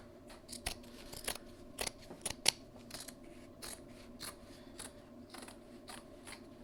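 Scissors snip through a custom rug of dried backing material in a series of sharp, quiet cuts at an uneven rhythm, close by with no talk.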